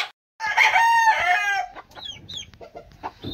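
A pure Asil hen calls loudly and close, with one drawn-out, strained vocalization followed by a run of short, choppy clucks.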